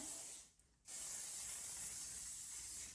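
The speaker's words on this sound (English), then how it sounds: "So I'm gonna just spray my hair." A steady aerosol hiss of hairspray sprayed onto hair, briefly interrupted by a short pause, then resuming as a continuous close spray.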